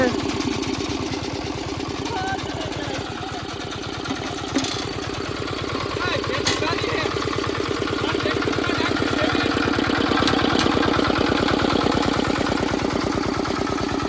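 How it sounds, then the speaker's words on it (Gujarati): A newly bought tractor engine idles steadily in a village after being started, giving a close, continuous, evenly throbbing chug that holds for the whole stretch, with a voice occasionally audible over it. "તો આપણું ટ્રેક્ટર સ્ટાર્ટ થઈ ગયું છે"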